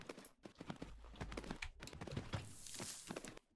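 Horse hooves clip-clop in a horse riding game, a soft, fairly quiet run of walking hoofbeats in an even rhythm with occasional heavier thunks.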